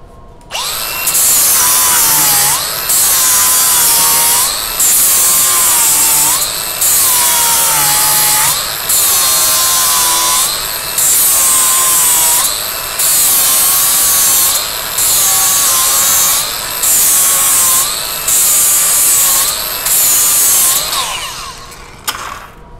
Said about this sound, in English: Grab my grinder.